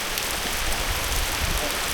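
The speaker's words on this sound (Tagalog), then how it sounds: "Ayan sa ulan." Rain falls steadily, a dense, loud, hissing patter of drops on surfaces close by, unbroken throughout and with no voices.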